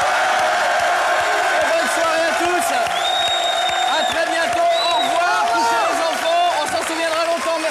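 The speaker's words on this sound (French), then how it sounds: "Allez, bonne soirée, applaudissez-le." TV studio audience on a French talk show cheering and applauding, a busy crowd roar with whoops and shouts mixed with clapping, while voices talk and call out over it.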